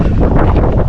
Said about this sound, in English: I think it's just this wind. It's picking up again.